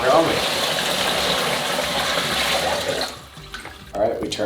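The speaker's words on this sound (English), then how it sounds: "Dumping in 19 liters of water because I am going to dilute it with 8 liters of propylene glycol." Water pours in a steady, gushing stream into a glycol chiller tank for about three seconds, close up, then cuts off, followed by brief faint handling sounds and a short splash.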